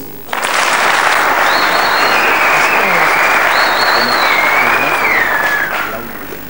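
Sustained audience applause fills a political meeting at the Palais du Parlement, many hands clapping steadily and loudly with a few whistles over the top, then fading slightly at the end.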